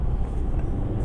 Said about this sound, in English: I want to show you now how this car accelerates.